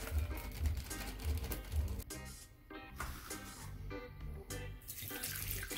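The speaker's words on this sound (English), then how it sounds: "Cover it with spring water." Spring water pours from a container over purple sea moss, a soft, steady trickle and splash heard faintly beneath background music.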